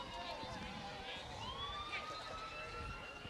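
An emergency vehicle siren wails while driving past a high school baseball game, a faint distant rising and falling tone over crowd murmur and outdoor ambience.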